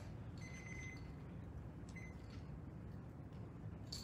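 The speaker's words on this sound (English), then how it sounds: "Trying to work with my timer." An electronic timer gives two short bursts of rapid high beeps over a steady background hum in a quiet room.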